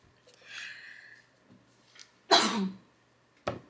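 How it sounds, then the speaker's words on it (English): A few soft throat sounds, then one sharp, close cough and a brief second one in an otherwise quiet room. "Sorry, cough."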